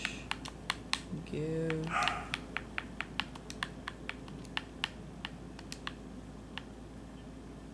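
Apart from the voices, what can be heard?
typing a Minecraft command on a computer keyboard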